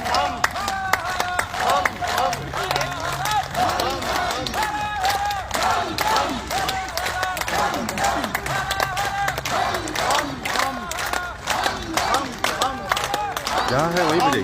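A group claps steadily during an outdoor yoga clapping session, a dense continuous rhythm of many hands, with voices calling and chanting over it.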